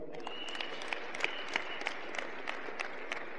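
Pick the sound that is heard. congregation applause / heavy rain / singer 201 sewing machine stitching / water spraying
congregation applause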